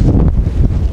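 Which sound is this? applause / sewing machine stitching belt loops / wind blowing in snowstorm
wind blowing in snowstorm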